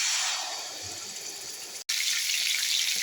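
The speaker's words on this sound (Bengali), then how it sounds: "মুরগিটা ভাজা শেষ" Chicken fries in a pan for a roast, giving a steady, close sizzling hiss that cuts out for a split second, then resumes just as strongly.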